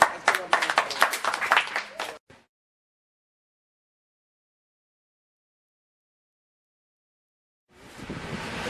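An audience at a meeting breaks into a dense burst of clapping that cuts off abruptly into silence, before a soft wash of room noise returns.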